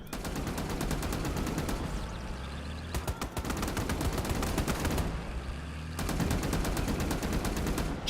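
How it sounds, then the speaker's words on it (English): Sustained machine gun fire from a tank in the Cold War wargame Gone Hot 1968: dense rapid bursts of gunfire with booming battle noise, loud and continuous, with brief lulls between volleys. "Seems the machine gunner in the tank is doing most of the work."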